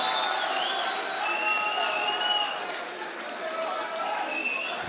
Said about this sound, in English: a big applause for these two fighters